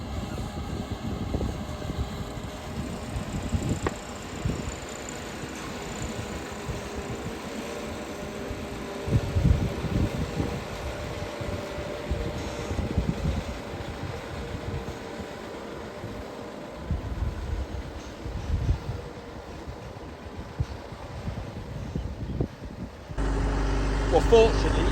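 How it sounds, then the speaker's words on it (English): An irrigation pump on a farm runs with a steady low mechanical drone and rumble, fluctuating slightly in strength, while someone talks over it; near the end the noise jumps louder. "fortunately, you can hear the pump now"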